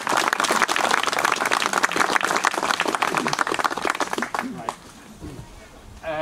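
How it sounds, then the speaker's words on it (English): A crowd at a commemoration event applauds pupils from Terryglass school, steady clapping that fades out near the end, with someone speaking over it. "I think another round of applause for the pupils of Terryglass"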